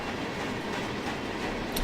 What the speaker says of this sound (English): So there's one UP train right behind him